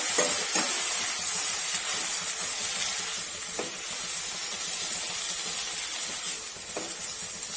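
Finely chopped tomato sautés with chillies in a hot pan, a steady sizzling hiss broken by a few soft stirring scrapes, close and moderately loud.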